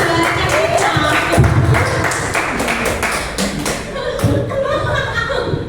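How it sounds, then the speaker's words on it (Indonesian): An audience at a school positive-culture dissemination session applauds, the clapping steady and fairly loud at close range, mixed with some chuckles and a few thumps. "terima kasih tepuk tangan untuk"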